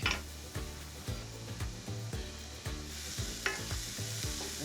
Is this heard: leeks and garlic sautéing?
yes